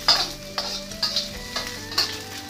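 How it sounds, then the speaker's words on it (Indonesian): Salted fish stir-fried in hot oil, with about five rhythmic scraping stirs of a spatula over a steady sizzle, close and fairly loud with no talking. "tumis ikan asin, adukkan"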